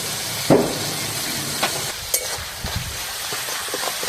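Ground coriander, cumin, turmeric and salt sizzle in hot oil in a pan, a close, steady hiss broken by a few sharp clinks and scrapes of a spoon stirring.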